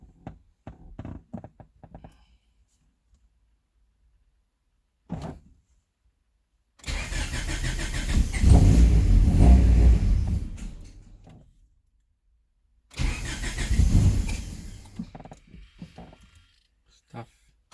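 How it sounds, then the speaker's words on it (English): An S300 car with Hondata engine software cranks and starts, its engine running loudly nearby for several seconds, then dropping away before a second shorter run, with brief clicks and handling sounds around it. "So let's start the car."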